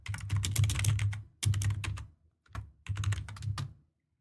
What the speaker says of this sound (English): Pardon the typing, children.